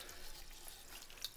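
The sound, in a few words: poultry water fount being dunked into water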